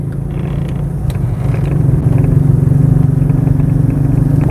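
A motorcycle engine hums steadily and grows louder as it rides along, with faint rattles and creaks over the low drone.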